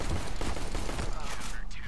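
Rapid gunfire bursts in the video game CS:GO, a dense run of loud shots packed closely together for a couple of seconds.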